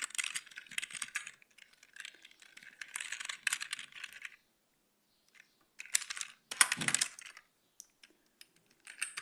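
Bursts of typing on a computer keyboard while entering Python code for a TCP socket chat program, close and dry, with a pause of silence midway before a louder flurry of keystrokes.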